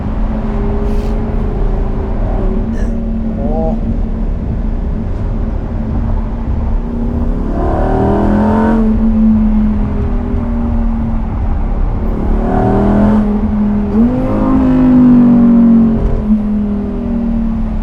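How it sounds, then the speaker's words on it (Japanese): A Lamborghini Huracán EVO Spyder engine hums under steady road noise, then surges twice into louder, higher-pitched revving above 5,000 rpm in comfort mode, before settling again; no voices. "コンフォートモードでもね5000回転を超えたあたりからエキゾーストの音質が変わりますね。"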